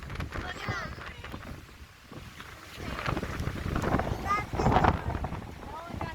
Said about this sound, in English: It's just a little windy.